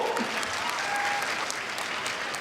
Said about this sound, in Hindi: जोरदार तालियां बजाएं मित्रों।